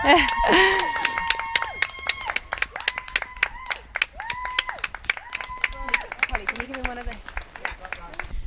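Spectators at a 50-mile charity bike ride cheer and clap as the first rider arrives, with sharp irregular hand claps and shouted whoops, plus talking voices at the start.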